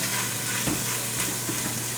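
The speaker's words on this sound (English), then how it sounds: "you can add in 1 yellow onion diced. And just continue to saute." Diced yellow onion sautéing in a pan with no oil, giving a steady close sizzle and hiss with a couple of soft stirring scrapes.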